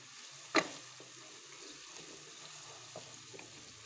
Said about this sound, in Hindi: प्याज हमारा ब्राउन हो गया है तो इसमें लहसुन अदरक का पेस्ट डाल देते हैं।